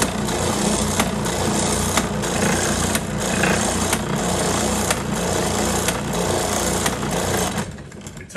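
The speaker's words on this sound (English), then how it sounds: "Let's turn it on. We'll be careful with this, it's gonna spin, but we'll turn it on." A RIDGID oscillating spindle sander runs up close with a loud, steady grinding whir. A faint regular pulse repeats about once a second as the spindle moves up and down, and the sound drops off near the end.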